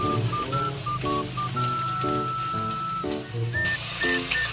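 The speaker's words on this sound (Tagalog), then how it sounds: "At simulan na rin natin maggisa ng luya, ng sibuyas, at ng bawang" Ginger, onion and garlic sautéing in a pan give a steady, close sizzle and crackle that runs throughout, while a tonal melody plays over it.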